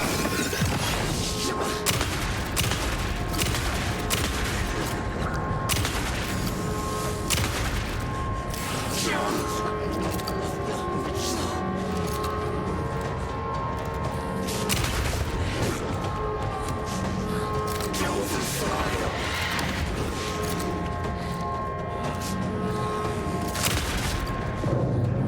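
Gunfire in the video game Alan Wake 2, with dense, continuous shots, crashes and booms layered over a constant loud game soundscape, and a voice talking over parts of it.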